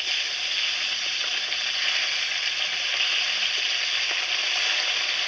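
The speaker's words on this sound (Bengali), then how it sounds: "মাছগুলো একটু উল্টে দিচ্ছি।" Salted fish frying in hot oil, a loud, continuous close sizzle with faint crackles and no voices.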